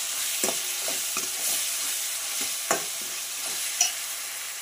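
Red chili powder frying in a pan for sambar, a steady hiss of hot oil broken by repeated spoon scrapes and taps at an uneven pace, two louder knocks standing out.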